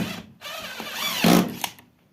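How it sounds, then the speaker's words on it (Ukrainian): A screw gun drives collated screws fed from a strip, giving a short whirring motor burst with a ratcheting click as the strip advances, close and fairly loud, brief and alone. "Ти бачиш, шурупи закручує."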